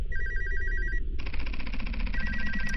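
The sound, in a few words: phone ringing in a Korean RPG Maker horror video game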